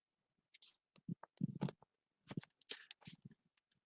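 Playing cards are shuffled during a magic and mentalism performance, a quiet run of soft riffling bursts and crisp snaps in two short clusters, close and otherwise silent.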